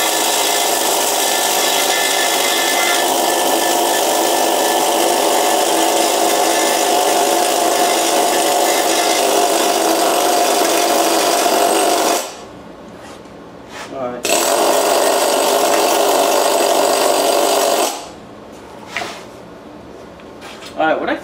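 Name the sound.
wire wheel cleaning paint off a hit and miss engine part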